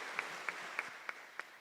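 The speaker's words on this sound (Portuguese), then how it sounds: "dê o seu melhor aplauso a Ele" A church congregation claps in a few spaced, faint handclaps, heard at a distance in a reverberant hall.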